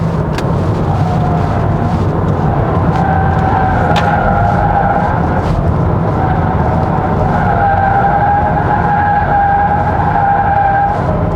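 A 2024 Volkswagen Jetta with the 1.5 TSI engine accelerating, heard from inside as a steady, low bass-heavy drone with a smooth tone that rises gently, loud and continuous with no talking.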